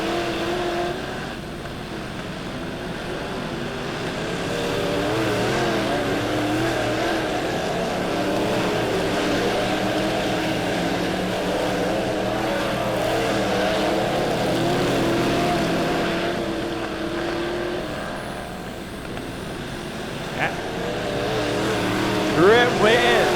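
Dirt track race cars roar around Lebanon Midway Speedway during an A-feature, a continuous loud engine drone that swells and fades as the cars pass, with a race announcer talking over it throughout.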